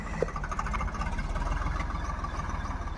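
A tractor engine runs nearby under load with a steady, throbbing low chug and rapid regular pulses, holding an even level throughout with no talk.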